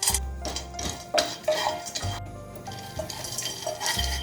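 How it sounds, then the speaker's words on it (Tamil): Cashews tumble into a thick, heavy pan for dry roasting, clattering and scraping against the metal in several bursts, with stirring clinks and light rattles between, close and clear with no talking. "ஃபஸ்ட்டு முந்திரி சேர்த்துக்கிறேன்."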